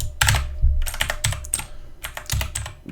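Computer keyboard keys clatter in quick bursts while code for a Discord.JS bot is typed, a close, steady run of clicks and thumps with short pauses between phrases.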